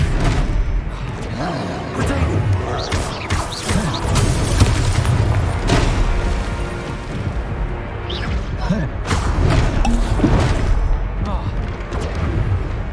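Spell-casting effects from the VR wizard game Wizard's Way, a dense stream of booms, whooshes and crashing impacts that runs throughout, with a player shouting over the game sounds.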